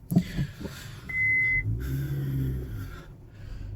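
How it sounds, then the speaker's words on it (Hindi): A car reverses during a driving lesson in an open lot, engine idling low with a steady hum and brief mechanical tones, fairly close, with no one talking. "अब देखो मैं पीछे लेता हूँ गाड़ी को फिर से।"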